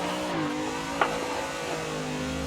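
A racing car engine in a driving simulator holds a steady high drone, shifting pitch as it accelerates into a drift, with a brief click partway through; no voices.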